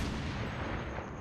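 Dense, sustained roar of gunfire and explosive booms from an elephant gun in the mobile shooter game Call of Duty Mobile, filling the whole moment at a steady, fairly quiet level with no talking.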